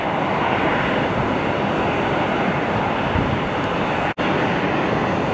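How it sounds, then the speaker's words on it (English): A medical Learjet at Cleveland Hopkins Airport produces a constant loud engine roar, a broad steady rumble that holds without change and drops out for an instant near the end. "It's a medical Learjet."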